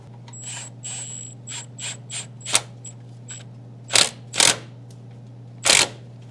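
A ratchet tightens the brake caliper mounting bracket bolts on a Dodge Ram 1500, giving bursts of rapid close clicking followed by several sharper louder ratchet strokes.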